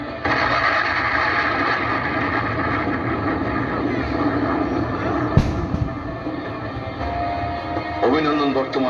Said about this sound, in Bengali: এই ক্ষেপণাস্ত্রগুলির যে কোনো একটি অভিনন্দনের বিমানকে আঘাত করে সঙ্গে সঙ্গে বিমানটি ধ্বংস হয়ে যায়